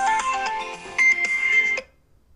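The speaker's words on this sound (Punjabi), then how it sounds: "ਮਮਾ ਦਾ ਫੋਨ ਇਹਨੂੰ ਕੀ ਕੰਮ ਪੈ ਗਿਆ" A mobile phone ringtone plays a bright, melodic electronic tune for about two seconds, close and clear, then cuts off into quiet.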